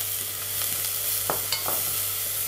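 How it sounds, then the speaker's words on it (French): Shallots sweat in olive oil in a pot with a pinch of salt, sizzling evenly and close, while a spoon stirs with a few light scrapes and clicks against the pan. "Mettre les échalotes, assaisonner avec une pincée de sel. Et les suer une petite minute."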